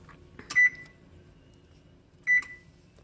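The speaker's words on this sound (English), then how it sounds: "Now I'm gonna go ahead and preheat my oven to 350 degree Fahrenheit." Two short electronic beeps from a kitchen oven being set to preheat to 350°F, spaced about two seconds apart and clear against a quiet room.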